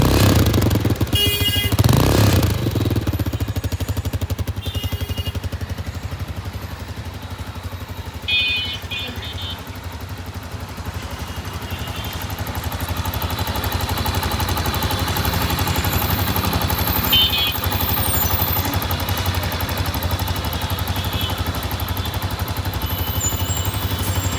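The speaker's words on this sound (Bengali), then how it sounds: "এখানে স্যালেন্সারের সাউন্ডটা দেখেন কতটা সুন্দর" A Runner Dayang Bullet 135cc motorcycle, modified into a cafe racer, idles through its exhaust silencer in a steady, throbbing drone close by, with one sharp clatter near the start.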